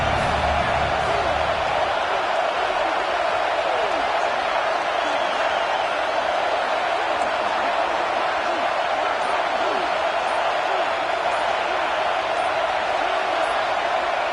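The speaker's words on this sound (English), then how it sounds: "with this place rocking, the crowd forces a false start" Loud stadium crowd roaring steadily throughout a college football game between Oregon and Nebraska, a dense continuous wash of noise with scattered whoops rising through it, no single voice standing out.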